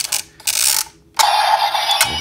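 Empty DX Tigerlance toy changer being rotated, its plastic mechanism giving two sharp clanging ratchet clicks separated by a short pause, close and fairly loud.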